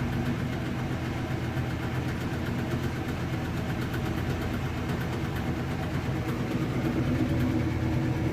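Maytag top-load washing machine with its drum spinning fast during a spin cycle, a steady low mechanical hum and whir that stays even and continuous throughout, heard close with no talking.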